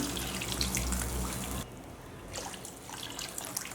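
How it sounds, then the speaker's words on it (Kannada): A steady rush of water pouring into a pot of pepper rasam cuts off abruptly, leaving a quieter sizzle with faint drips and light clinks. "ನೀರು ಹಾಕ್ಕೊಳ್ತಾ ಇದ್ದೀನಿ"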